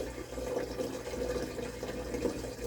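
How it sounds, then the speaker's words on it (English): Water poured steadily into a 16 litre rotifer tank with a bubbler running, a continuous close splashing gurgle that holds at an even level throughout. "Strong, confident pour."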